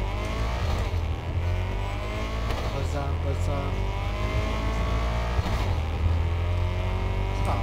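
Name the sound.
car engine in video game Cyberpunk 2077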